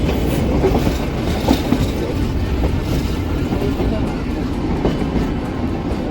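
The Ooty toy train rolls steadily along the mountain rails from Mettupalayam, a continuous loud rumble with faint rhythmic clatter of wheels over the track throughout.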